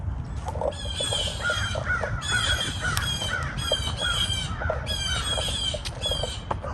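A flock of birds circles above a tree, with loud, repeated harsh crow-like squawks and caws calling in quick bursts over a rumbling outdoor background. No one speaks.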